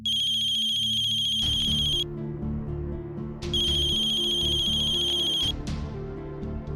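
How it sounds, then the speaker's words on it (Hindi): An electronic phone ringtone rings in two repeated bursts of bright tones over a looping melody, loud and close. "आई थिंक मेरा फोन बज रहा है।"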